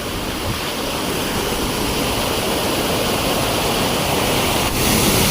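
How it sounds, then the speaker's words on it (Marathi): Loud, constant roar of a waterfall in the Konkan region of India, dense and close with no breaks. "हा बघा कसला धबधबा खतरनाक"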